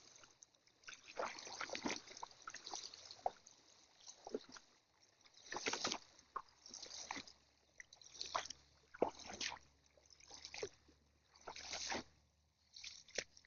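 Water flowing in the Brandywine River, a steady close rush of current with splashing surges rising and falling throughout, no voices over it.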